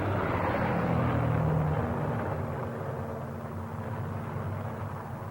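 World War II B-17 Flying Fortress bombers return to their base to land, some with battle damage, and their piston engines make a loud, continuous droning roar that eases off slightly toward the end.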